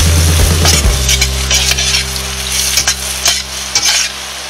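Asparagus stir-frying in a pan with lemon pepper seasoning, a loud, steady close sizzle broken by clinks and scrapes of a utensil stirring, with no talking.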